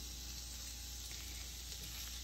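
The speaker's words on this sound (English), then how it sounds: "The sizzle is good" Meat and peppers sizzle on a hot Ninja Sizzle GR101 smokeless indoor grill and griddle, a steady, soft broadband hiss that holds even and unbroken throughout.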